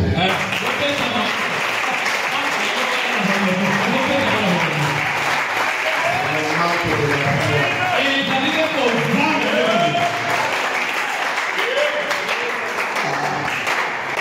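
A church congregation in Gabon applauds and cheers for the Lord in a loud, sustained wash of clapping that fills the whole stretch, with crowd voices mixed in.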